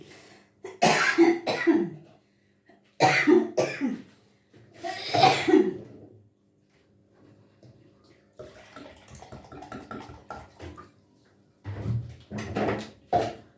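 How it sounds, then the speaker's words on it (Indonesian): A person coughs in several harsh bursts, close up, separated by pauses, with some quieter shuffling and kitchen noise between them. "Saya kalau bau aroma pedes tuh selalu batuk."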